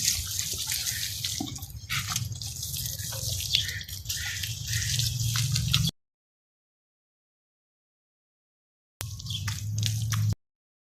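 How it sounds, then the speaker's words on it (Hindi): Water is splashed by hand onto a mud floor in a village house before mopping, with close wet patter and drips, a pause of silence, then another short burst of splashing. "ऐसे हमने पहले पानी छिड़कना है।"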